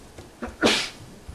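A single sneeze bursts out indoors, one quick, sharp, moderately close expulsion that rises out of a quiet room hum and fades away.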